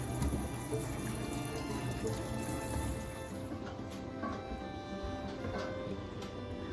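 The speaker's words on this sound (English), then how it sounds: "we're going to wash our jalapeno peppers and our tomatoes with cold water." Steady running cold tap water splashing into a sink while washing jalapeno peppers and tomatoes, continuous and close, with faint handling sounds mixed in.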